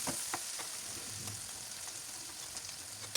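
Meat and vegetables sautéing in a pan for an eggplant kebab, a steady soft sizzle and frying crackle with faint stirring scrapes throughout, fairly quiet and with no voices.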